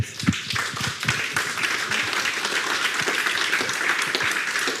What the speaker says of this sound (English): The floor, to the rousing applause of our audience, is yours.